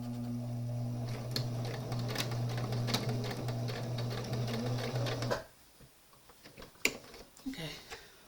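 A sewing machine stitches a shoulder strap with a steady, close mechanical whir and rhythmic needle clatter for about five seconds, then stops abruptly, leaving faint handling clicks and rustles.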